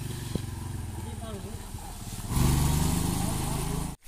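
A motorbike on a rural hill road near Kotdwara grows louder as it approaches, its engine hum rising into a close, steady roar, with someone talking over it early on.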